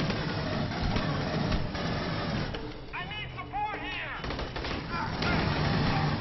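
Sustained gunfire crackles through a firefight in the video game Aliens: Colonial Marines. Dense bursts run nearly throughout, easing briefly midway under a short vocal sound before the shooting picks back up.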